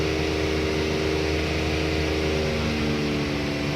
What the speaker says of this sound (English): Doing a bit of revving so I can show you guys what the aftermath is.